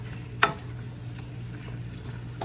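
Ingredients for Peruvian lomo saltado are stirred in a frying pan, with one sharp scrape of a utensil against the pan over a low, steady background sizzle.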